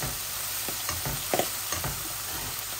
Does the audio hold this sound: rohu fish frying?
yes